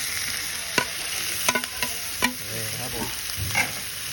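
Eel stir-fried in a hot pan outdoors in a rice-field setting for a spicy stir-fry, with steady sizzling and several sharp scraping clanks of a spatula stirring against the pan.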